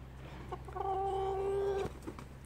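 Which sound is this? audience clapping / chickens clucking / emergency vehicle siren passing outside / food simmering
chickens clucking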